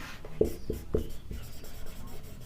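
Chalk or marker strokes scratch and tap on a board during a physics lecture on optics, sounding as several short, distinct rhythmic strokes close by, quiet and dry with no speech over them.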